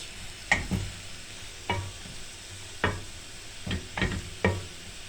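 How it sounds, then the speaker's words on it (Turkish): Semolina being stirred and roasted in a pan for helva, with a spoon scraping in sharp separate strokes, about six knocks over a soft background hiss. "Bir buçuk bardak irmik arkadaşlar. Şöyle kavuralım."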